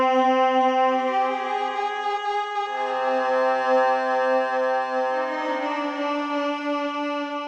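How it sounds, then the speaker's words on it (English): A sustained synthesized string pad plays alone, holding smooth bright chords that shift partway through, steady and fairly loud with no other sounds. "so my strings sound like this"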